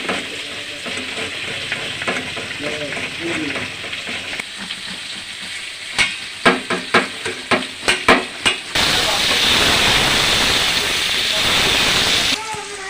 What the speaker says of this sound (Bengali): আর হলুদ দিয়ে ভেজে নেব মূলো আর আলুটাকে।